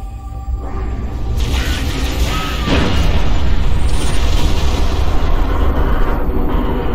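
Final protective artillery fire support shot in Halo Reach, a loud, sustained barrage of booms and mechanical clatter building over several seconds into a dense, continuous roar of impacts.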